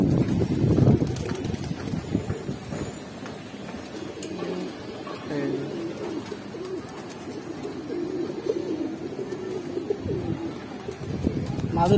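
Giribaz tumbler pigeons coo in low, throaty, rolling phrases that repeat throughout, close by, over a steady background rustle and murmur.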